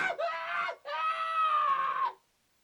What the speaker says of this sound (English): It makes you want to pull your hair out and scream just like that.